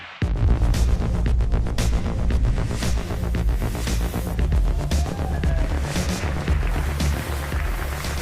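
Marine test engine firing up after ignition in a research test cell, a loud, steady throbbing pulse with a low rumbling hum starting abruptly and running on.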